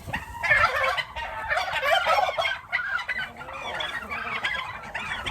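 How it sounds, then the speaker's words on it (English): Several turkeys gobble and cluck loudly and close by, overlapping calls in rapid bursts throughout, with no speech. "Turkeys are cheering me on"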